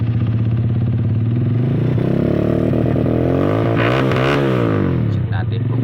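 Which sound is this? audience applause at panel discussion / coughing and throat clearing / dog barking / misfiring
misfiring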